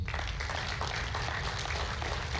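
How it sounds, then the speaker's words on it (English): Steady, continuous clapping from the crowd at a powerlifting national championship, a brief even burst of applause. "Give them another round of applause."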